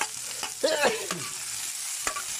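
Onion being stir-fried in a pan, with green chili next in the dish, gives a steady close sizzle broken by a few scraping stirs of a utensil against the pan.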